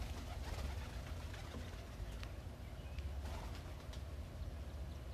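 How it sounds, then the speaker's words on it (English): Pigeons that have just landed on a playing field in Wolfville, Nova Scotia at dawn, soft repeated cooing over a low, steady outdoor background, faint and a little distant. "had a couple of pigeons just land here as well"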